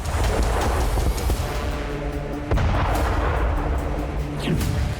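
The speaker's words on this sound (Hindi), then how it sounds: "यहां धमाके के बाद आग का गोला उठा और फिर काले धुएं का गुबार उठा।" A deep, continuous rumbling roar with booming low-end bursts, a large explosion at a gas plant in Zhytomyr, Ukraine, and its aftermath heard from a distance, with no talking.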